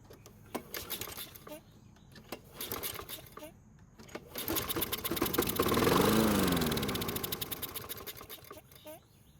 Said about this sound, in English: luckily it started and ran for a few seconds after putting some fuel into the carb's throat